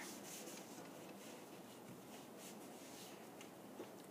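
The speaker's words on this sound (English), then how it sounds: "now I'm going to apply some pressure on there, rubbing really hard all over" Steady, close rubbing of hand pressure on paper laid over an inked snowflake printing block, a continuous dry scratchy friction that keeps an even level for about four seconds with no speech.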